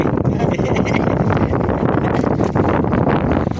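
Strong wind roars steadily across the microphone on a deep-sea fishing boat, with choppy, rough water and the boat's rumble beneath, loud and continuous throughout.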